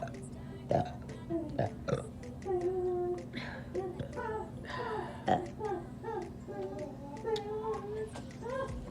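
Burps after drinking Coke Zero come in a series of short, close croaks, some quite loud, mixed with children talking and chatter throughout.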